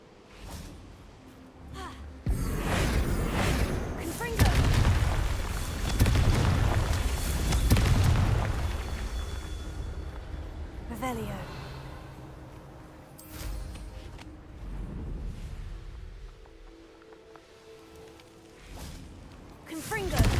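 Repeated Confringo fire-spell blasts in the Hogwarts Legacy game, loud booming bursts with whooshes at irregular intervals, heaviest in the first half and fading to quieter rumbles and sweeps, with shouted voices over them.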